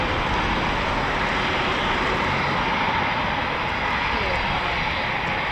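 A Eurofighter Typhoon FGR4 rolls down the runway at RAF Coningsby, nose high in aerodynamic braking after landing, its engines a loud, unbroken roar that fills the whole stretch.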